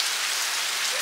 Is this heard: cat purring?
no